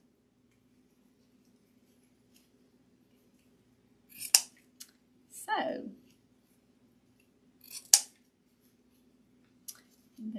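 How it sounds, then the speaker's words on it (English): Ribbon scissors snipping through wired ribbon while a wreath is trimmed: a few sharp, crisp cuts close by, each a short click-snap with brief pauses between, alongside soft speech over a faint steady hum. "After you cut ribbons for so long,"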